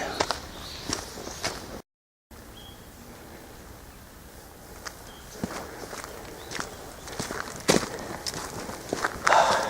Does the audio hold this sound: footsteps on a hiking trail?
yes